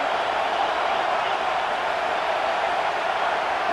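A packed stadium crowd roars in EA Sports College Football 26, a dense, loud, unbroken wall of cheering that holds steady throughout with no break.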